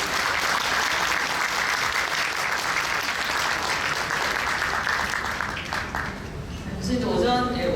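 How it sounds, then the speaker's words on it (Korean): A lecture audience at a mentoring professors' seminar gives a loud, sustained round of applause that fades near the end as a voice begins speaking. "큰 박수 부탁드립니다"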